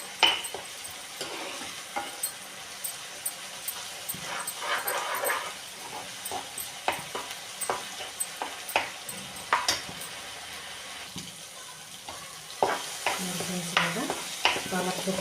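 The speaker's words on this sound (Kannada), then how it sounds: "ಹಾಕ್ಕೊಂಡು ಎಲ್ಲನೂ ಚೆನ್ನಾಗಿ ಫ್ರೈ ಮಾಡ್ಕೋಬೇಕು." Spinach frying with turmeric powder in a pan, a steady sizzle under repeated scraping stir strokes, while a dog whimpers faintly in the background and a voice briefly murmurs.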